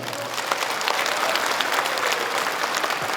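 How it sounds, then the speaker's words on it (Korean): At a forum backing Gyeongju's bid to host the 2025 APEC summit, the crowd claps for council members in a brief, thick burst of applause that stays fairly even throughout. "의원님들한테도 박수 좀 보내주시기 바랍니다."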